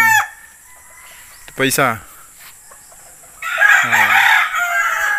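Gamefowl stags in a yard, one rooster crowing loudly at the start and others crowing and clucking close by, with someone briefly speaking between the calls.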